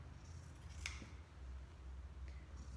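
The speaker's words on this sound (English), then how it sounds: "We use our fabric scissors, okay?" Fabric shears slice through cloth in long strokes, a faint crisp snip standing out once near the middle over a steady low hum, with no voices.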